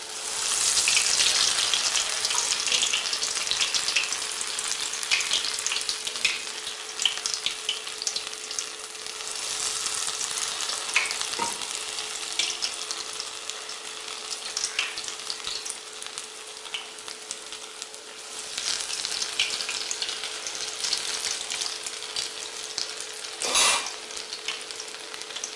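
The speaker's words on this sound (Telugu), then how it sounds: "2 వైపులా దోరగా వేయించుకుంటే బాగుంటాయి గారెలు." Urad dal vadas (garelu), a South Indian lentil fritter, sizzle and bubble steadily in hot oil throughout, a continuous close crackle with occasional stirring clinks and one sharp knock near the end.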